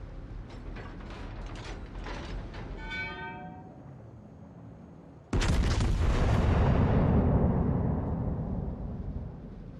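Battleship guns in World of Warships fire a massive salvo after mechanical turret clicking and ratcheting, the blast arriving suddenly as a loud, close boom that rumbles on for several seconds.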